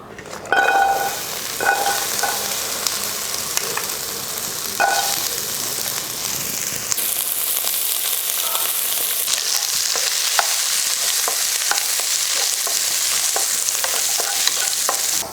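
Onion and coconut sauté in a pan for a village-style country chicken curry, a continuous close sizzle punctuated by repeated scraping stirs, growing denser and hissier partway through.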